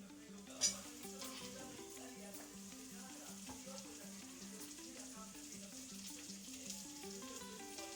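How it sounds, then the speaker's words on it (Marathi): Onion dropped into hot oil with garlic: one sharp clink, then a constant soft frying sizzle, quiet, with faint background music and no speech. "लसूण झालेलं आहे, मी कांदा टाकते।"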